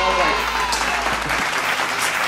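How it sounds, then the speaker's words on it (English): A round of applause plays as a short burst of dense, close clapping that fills the whole moment, with a voice speaking over its start. "Can I get a round of applause?"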